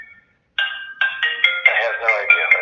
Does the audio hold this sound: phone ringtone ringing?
yes